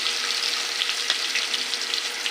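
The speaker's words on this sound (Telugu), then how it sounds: "కూరగాయలు వేసుకుందాము." Chopped vegetables frying in a pan, a steady broadband sizzle with a faint crackle, close and continuous throughout without talk.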